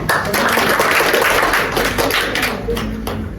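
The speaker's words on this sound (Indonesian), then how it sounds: "tepuk tangan dulu" A lecture-hall audience claps together for a few seconds in a steady, dense patter of many hands, fairly loud and close, tapering slightly at the end.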